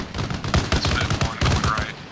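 Rapid automatic gunfire hitting a military convoy in a video game, dense bursts of shots fired in quick succession close by, with a voice partly heard over the firing.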